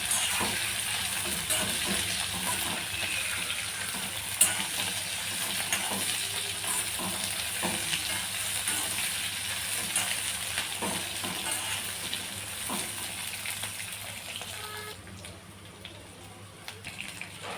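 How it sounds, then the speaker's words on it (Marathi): Peanuts roasting in a pan with cumin for green chilli thecha, a soft steady sizzle with light rattling and occasional clinks as the nuts are stirred and tossed, fading slightly toward the end. "आता मी शेंगदाणे घालून घेते तर मी ते अर्धी वाटी शेंगदाणे घेतलेत तेही आपण छान त्यासोबतच भाजून घेऊया"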